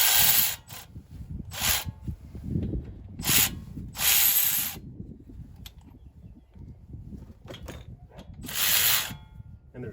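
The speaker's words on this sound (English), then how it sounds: "I can use my electric ratchet without fear of breaking it" Electric ratchet spinning off a brake caliper bolt on a 2011 Yukon during a pad replacement, heard as several short, close whirring bursts separated by pauses, with faint clinks and handling noise in between.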